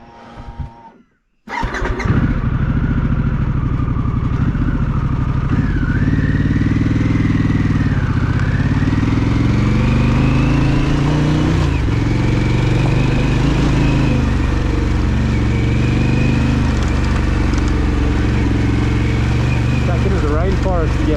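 Harley-Davidson Pan America motorcycle ridden on an off-road track toward the bitumen, its engine droning steadily and loudly throughout after a brief gap near the start, with a spoken voice over it.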